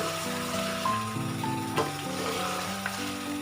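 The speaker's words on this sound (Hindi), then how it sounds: "माशाल्लाह से बहुत अच्छी हमारी भुनाई हो रही है।" Mutton karahi sizzling and frying with spices and black pepper in a karahi pan, a constant close crackle and hiss with occasional stirring scrapes throughout, no one speaking.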